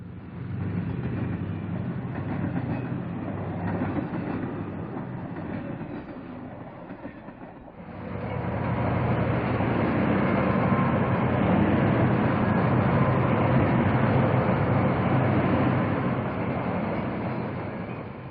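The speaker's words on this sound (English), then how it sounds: "brought a special B&O passenger train across the Maumee River Bridge" A special B&O passenger excursion train rumbles across the Maumee River Bridge, wheels clattering steadily, briefly quieter midway, then a louder, fuller roll of cars as it continues across.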